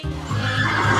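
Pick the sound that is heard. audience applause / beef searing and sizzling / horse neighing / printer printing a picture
horse neighing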